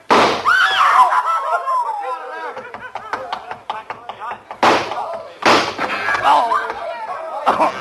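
A series of sharp gunshot-like bangs in a radio drama, a few loud isolated cracks set among tense speech and scuffling sounds.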